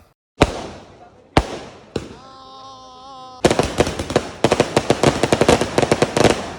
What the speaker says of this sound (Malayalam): വെടിക്കെട്ടിന് വേണ്ടിയുള്ള ഇരിപ്പാണ്ട